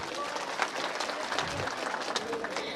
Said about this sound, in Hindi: मैं चाहूंगी कि आप सब लोग हमारे देहा रेंज के फॉरेस्ट डिपार्टमेंट के लिए एक बार जोरदार तालियां बजाएं।